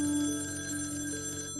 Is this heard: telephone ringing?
yes